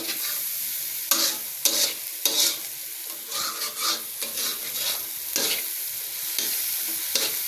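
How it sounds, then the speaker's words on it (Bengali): Ingredients for a bottle gourd curry are stirred and fried in a pan. A spoon scrapes repeatedly over the pan while steady oil sizzles underneath, all close up, with no voices. "এখন ভালোভাবে নেড়ে নিতে হবে মিক্স করতে হবে"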